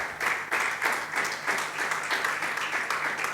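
A church congregation claps together in a strong, rhythmic beat, roughly three claps per second, loud and steady throughout with a low hum underneath.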